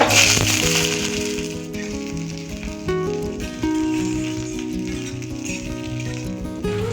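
Onion with a little chopped garlic frying in a pan, a steady close sizzle that holds under a layer of background music throughout.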